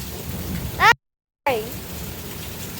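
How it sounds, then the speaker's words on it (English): A spring thunderstorm in South Carolina, with steady rain falling close by and a short rumble, broken by a sudden gap in the sound midway. "Thunderstorm in the summertime, or I'm sorry, springtime in South Carolina."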